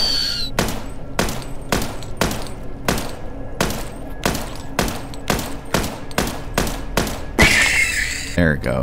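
Steady single gunshots in the indie horror game I Was Here, about ten evenly spaced sharp cracks over several seconds, loud and close, ending in a short flurry of other game noise.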